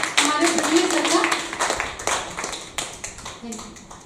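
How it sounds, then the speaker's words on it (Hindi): An audience at a poetry honours ceremony claps to welcome a speaker, a burst of hand clapping that thins out in scattered claps, with a voice talking over the opening and near the end. "जोरदार तालियों से स्वागत करिए हमारे पृथ्वी सर का"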